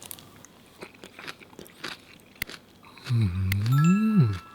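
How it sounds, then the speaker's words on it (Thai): Blanched Chinese cabbage with a crisp texture is bitten and chewed up close, giving a few sharp crunchy bites followed by a louder burst of crunching near the end, with no talking. "ลองชิมดูนะ"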